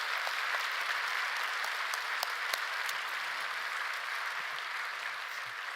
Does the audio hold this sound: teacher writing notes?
no